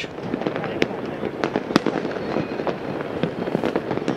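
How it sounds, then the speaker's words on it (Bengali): New Year fireworks burst over a city at night, sharp loud cracks and bangs coming repeatedly over a continuous crackling rumble. "নিষেধাজ্ঞা থাকলেও আতশবাজি, ফানুস আর লেজার রশ্মির তীব্রতায় বরণ করা হলো খ্রিস্টীয় নতুন বছর 2025"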